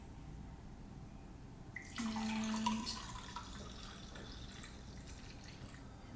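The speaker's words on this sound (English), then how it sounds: "And so now I am going to pour it" Freshly made zucchini, kale, apple and lemon juice pours into a container in a home kitchen, a soft liquid trickle that swells for about a second mid-clip and then settles into a quiet, steady flow.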